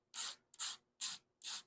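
A utility knife blade scrapes across curing Duraglas body filler on a car body, four short rasping strokes in an even rhythm, close and crisp with silence between each pass.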